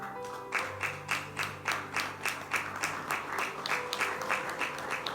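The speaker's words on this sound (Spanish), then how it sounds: "Demos un gran aplauso a ese Dios maravilloso" Church congregation clapping together in a steady rhythmic beat, each clap sharp and roughly evenly spaced, with a low sustained organ or keyboard tone underneath and no talking.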